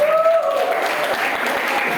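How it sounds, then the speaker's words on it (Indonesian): Brief burst of clapping from students in a biology classroom, close and steady, with a voice briefly heard over it at the start. "oh iya tepuk tangan dulu ya"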